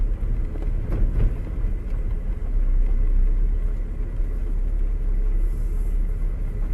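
A 1965 Ford F100 pickup truck with a 300 straight-six engine and a three-on-the-tree column shift drives along, heard from inside the cab as a steady, low engine and road rumble with no talking.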